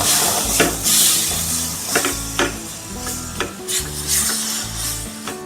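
A spoon stirs a thick mango juice and rawa mixture in a cooking pan, with repeated scraping strokes against the metal in a loose rhythm, close and clear, alongside a soft sizzle and no talking.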